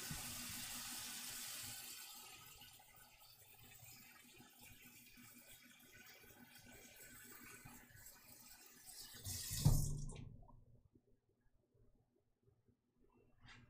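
Tap water runs steadily into a pot of potatoes in a kitchen sink, a soft, even rush that fades slightly and then swells before the tap is shut off. Quiet near-silence follows.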